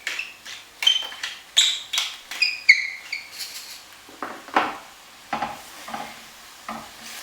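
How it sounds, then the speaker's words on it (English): Seasoned beef for lasagne stirred around a hot pan to brown, with a steady run of close scraping and clinking strokes of a utensil against metal over a soft sizzle. "we're just going to keep moving it around the pan until it's nice and brown all over"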